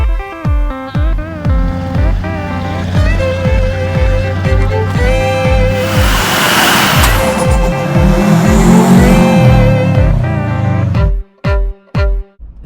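Loud vehicle sound from a Duramax LB7 diesel pickup truck, a steady engine roar with rising and falling revs, building to a noisy rush in the middle, then several abrupt cutouts near the end. No one speaks.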